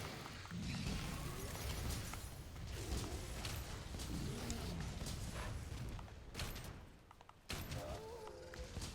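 Sticky ammo fired from a light bowgun detonates against a monster in Monster Hunter World: Iceborne, a loud, dense run of booming blasts and thuds with rumbling low end that continues almost without pause, briefly dipping once before resuming.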